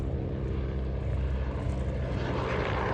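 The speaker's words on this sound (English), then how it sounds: "We see it here in its Army Air Corps guise to start the flying programme at the 2024 Abingdon Air and Country Show, the Westland Scout AH-1." A Westland Scout AH-1 helicopter in Army Air Corps markings flies at the 2024 Abingdon Air and Country Show, giving a steady, fairly loud rotor and turbine drone that holds without a break.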